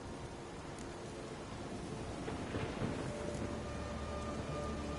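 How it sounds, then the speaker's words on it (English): Steady rain and rolling thunder of a storm in The Witcher 3, a continuous wash of downpour with a low rumble swelling midway, no voices over it. "Storm's died down."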